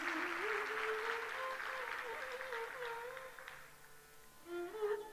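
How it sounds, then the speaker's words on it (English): An audience claps steadily after a dance performance, a dense sustained round of applause that gradually thins, with a voice talking over it throughout. "Let's give her one more big round of applause."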